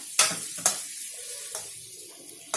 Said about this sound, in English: We give all of this a good mix so that everything gets coated with this bagar.